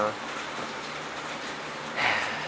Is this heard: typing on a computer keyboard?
no